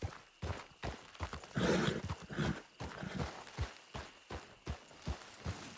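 A horse in a western roleplay video game neighs loudly, mixed with a rhythmic clip-clop of hooves that keeps up at a steady pace throughout.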